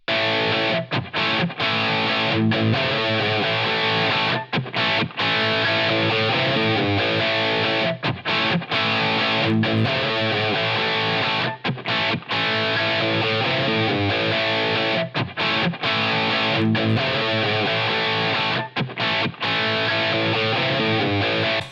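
An electric guitar plays through a Line 6 Helix LA Studio Compressor modelled on the Teletronix LA-2A, pushed hard into distortion and heard with the effect off and then on: loud, dense, continuous riffing with short rhythmic breaks.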